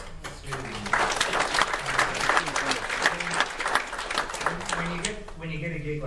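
Warm audience applause rolls through a convention opening ceremony for artist John Picacio at Norwescon 35, steady for several seconds before thinning, with voices talking over the clapping.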